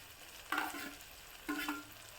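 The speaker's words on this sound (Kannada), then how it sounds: "ಇದೆಲ್ಲ ಫ್ರೈ ಆದಮೇಲೆ ಕೊನೆಯಲ್ಲಿ ಪೀನಟ್ ಹಾಕ್ತಿದ್ದೀನಿ." Vegetables with peanuts, cucumber and carrot are stir-fried in a pan, with two soft scraping stirs over a faint, steady sizzle, quiet and close.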